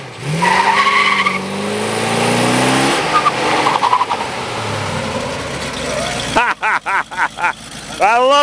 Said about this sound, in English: Rumble, rumble, 429 Super Cobra Jet.